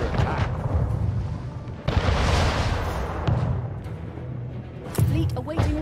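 Cannon fire from warships in an Anno 1800 naval battle, several booming bursts at about two, three and five seconds over a rumbling battle bed with faint voices in the background.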